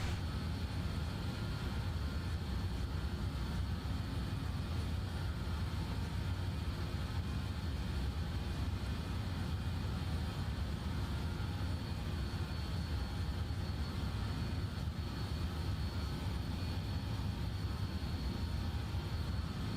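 Jet engines of a BAe146 in Microsoft Flight Simulator give a steady, continuous whooshing drone with a low rumble, unchanging at moderate level for the whole stretch, with no speech.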